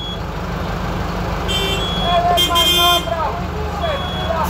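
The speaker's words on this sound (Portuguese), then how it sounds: "Vou buzinar também, todo mundo tá buzinando." Many car horns honking in a stalled traffic jam, several overlapping toots and longer blasts rising in the middle over a steady engine rumble, with voices talking in the vehicle.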